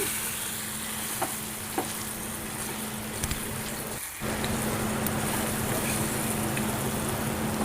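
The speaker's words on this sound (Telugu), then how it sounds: "పోపు అంతా ఇలా కలిసేలాగా కలబెట్టుకోవాలి" Mango chutney being stirred into hot, crackling tempering oil while making raw mango pickle: a steady close sizzle with a few faint clicks of a spoon against the pan, and a brief dip midway.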